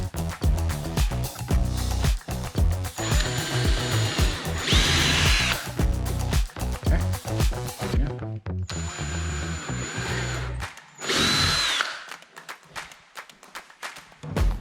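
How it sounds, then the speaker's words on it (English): A power drill bores pilot holes into wood in two bursts, each a rough whirring grind that rises and cuts off, with a short quiet gap and handling clatter between them. "A pilot hole is a hole that you drill into the wood before your screw"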